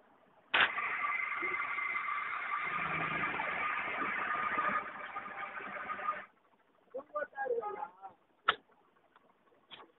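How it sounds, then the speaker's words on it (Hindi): Air is pumped into a newly fitted tractor tyre at a roadside tyre service: a loud steady hiss runs for about six seconds, then stops, followed by a few short sputters and one sharp burst. "टायर फिट हो गया है, चलिए इसमें हवा डालते हैं।"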